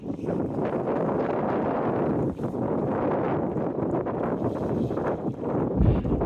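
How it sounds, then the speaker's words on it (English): Wind blowing steadily at the seafront in Teignmouth, heard as a continuous loud rushing buffet against the microphone, with a low thump near the end. "Wind or no wind."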